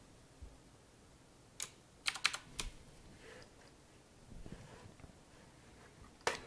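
Typing on a computer keyboard while installing NASM on a Windows virtual machine, a few sharp, sparse key clicks in small clusters over a quiet background hum, no talk.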